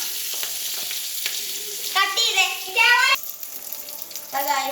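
Onion sizzling and frying in a pan for a Kerala okra and tomato curry, a steady crackling hiss with louder bursts as the pan is stirred, with scraping and clinks of the spoon; no talking.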